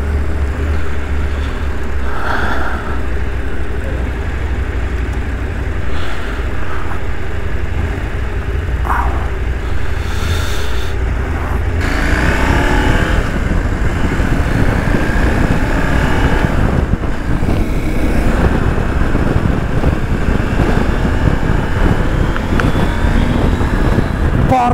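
A Husqvarna Norden 901 motorcycle engine drones steadily while riding, its pitch rising as it accelerates midway, mixed with loud rushing wind noise.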